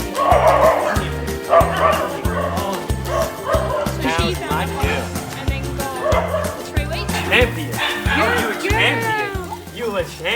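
Many dogs bark, yip and whine at once in a loud, chaotic chorus in Sri Lanka, with high-pitched yelps layered over deeper barks throughout.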